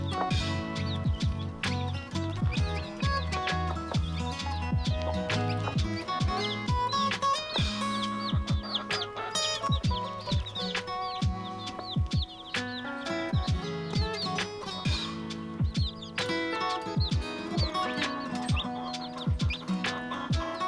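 Newly hatched chicks raised by a broody hen chirp and peep continuously, with clucking fowl mixed in. The calls are close and lively, overlapping in quick repeated bursts throughout.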